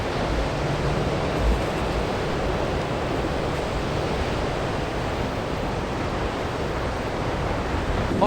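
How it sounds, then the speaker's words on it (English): Strong wind roars steadily across a beach, a dense continuous rush of buffeting air with surf-like noise and no pauses, close and loud throughout. "it's really quite windy"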